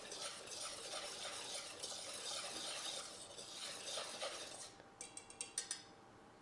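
Flour, cocoa and soda are stirred together in a bowl, giving a soft, steady brushing and scraping, then a run of quick light clinks of the utensil against the bowl near the end.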